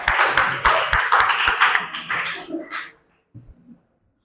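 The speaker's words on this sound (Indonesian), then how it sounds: "beri tepuk tangan kelompok 4" A small classroom of students clapping for a presenting group, a short uneven run of claps that fades out, with a couple of faint taps after a pause.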